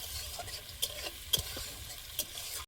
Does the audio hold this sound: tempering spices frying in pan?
yes